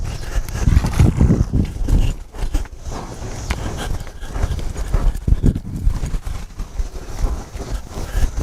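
A cutting horse works cattle on soft ground, its hooves thudding in quick, irregular bursts of scrambling footfalls, close and fairly loud, with brief pauses between the sudden stops and turns.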